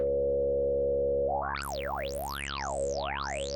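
A steady synth drone in VCV Rack whose filter cutoff begins sweeping after a moment, modulated by three LFOs merged through a Make Noise MultiMod, with three overlapping rising and falling whooshes weaving continuously, loud and electronic.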